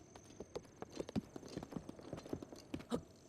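Epona, a horse in Breath of the Wild, gallops with quick, uneven clip-clop hoofbeats in steady bursts, moderately close, with no talk over them.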